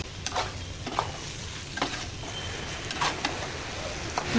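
Chicken with onion and masala is stirred in a pan over high flame, a continuous close sizzle broken by repeated scraping strokes of the spoon at an irregular rhythm.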